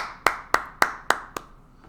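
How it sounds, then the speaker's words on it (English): Five slow, evenly spaced hand claps ring out crisp and close during a grade 6-7 math lesson, each clap sharp with a short echo before the next, the last one slightly softer. "Let's all give ourselves a round of applause"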